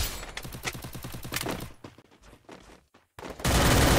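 Rapid bursts of automatic gunfire from the Free Fire battle royale game, loud and close, then a short lull with scattered shots and a final loud burst, with no voices.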